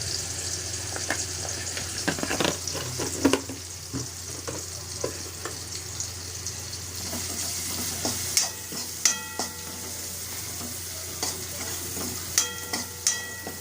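Masala with red chilli powder frying in oil for an aloo matar bhaji, a continuous low sizzle broken by repeated spoon scrapes and clinks against the pan, close and without any voice.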